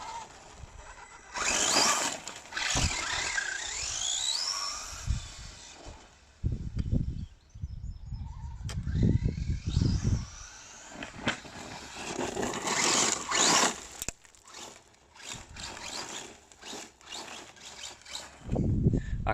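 An RC car with an LRP X20 motor runs on a failing custom spur gear, giving off irregular whirring, grinding and scraping bursts that rise and fall, some loud and some fading away, with no talk.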